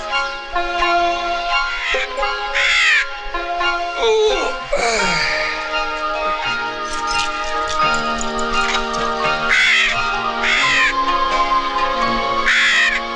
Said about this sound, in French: C'est un aigle chauve. Les Indiens, tu sais, vénèrent ce genre de rapace.